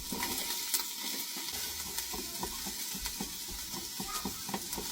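Onions fry in a pan with a steady, close sizzle, broken by occasional clicks and light scraping from stirring, and no voices.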